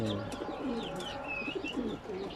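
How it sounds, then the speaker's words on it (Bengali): A racing pigeon coos close by in soft, repeated rolling calls that continue throughout, with a few faint chirps mixed in. "কবুতর"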